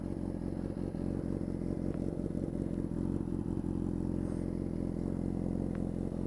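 Honda CBR250RR sport bike with a Yoshimura exhaust, engine running at a steady idle with a rapid, even mechanical throb and light clatter, close and constant with no talk.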